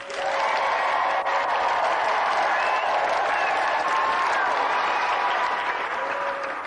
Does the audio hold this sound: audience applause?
yes